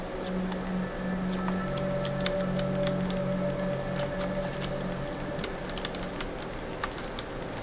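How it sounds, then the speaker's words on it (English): Mouse buttons click repeatedly and quickly while trying to open a chest in a survival and exploration video game, sharp taps over a steady low game hum, with no talking. "I've been clicking the crap out of this every single spot."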